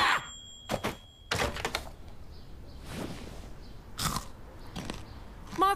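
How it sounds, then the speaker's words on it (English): Microwave chips crunch loudly in several sharp, separate bites, each a brittle crackle followed by chewing, with short quiet gaps between them and no talk. "Microwave chips with maximum crunch."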